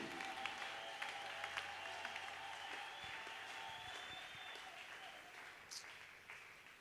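Church congregation at a Sunday service clapping and cheering in acclaim, a steady wash of applause sustained throughout, fairly distant and soft.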